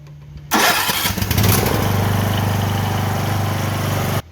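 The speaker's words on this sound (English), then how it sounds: "it cranked the engine over and it started" A riding mower engine is cranked over briefly, then catches and starts, running loud and close with a rough, pulsing idle for a few seconds before stopping abruptly.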